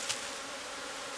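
Honeybees at an open beehive give off a dense, steady buzzing hum that is even and continuous, as if from many insects close by.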